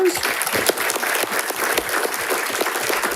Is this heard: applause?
yes